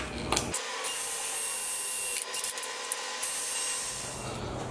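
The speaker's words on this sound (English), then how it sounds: "we're going to drill some holes" A power drill whines continuously through PVC pipe, its high-pitched buzz dipping briefly as the bit bites, with rattling handling noise throughout.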